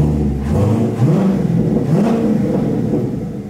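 A Corvette convertible's engine fires up and revs, a loud, close, mid-pitched roar that swells in a couple of rising surges before settling into a steady run.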